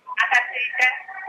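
A telephone line connects for a call-in question during an Indonesian Islamic lecture broadcast: a short, band-limited, phone-like tone with voice-like harmonics sounds for about a second at moderate level.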